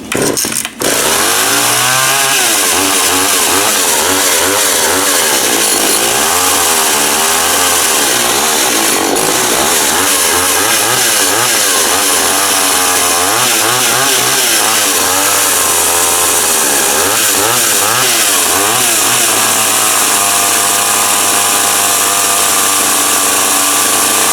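Several chainsaws idle loudly and continuously while warming up, their engines sputtering and wavering in pitch without pause, close to the listener.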